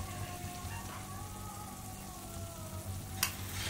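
A fried spice mix sizzles softly in a pan as it is stirred, making a faint, even crackle with one short scrape near the end.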